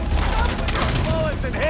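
Rapid gunfire in the open-world shooter Far Cry 3, loud bursts of shots packed tightly over a busy game soundscape, with a voice talking at the same time.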